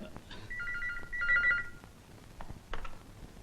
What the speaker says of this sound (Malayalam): ഫ്രെഡി, ഫോൺ എടുക്ക.